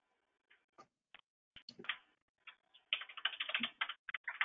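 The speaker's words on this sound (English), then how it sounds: "Ty, could you, Ty, we hear you're typing." Computer keyboard typing picked up by a microphone during an online board meeting, faint scattered keystrokes that speed into a dense, clattering run of taps, close and otherwise quiet.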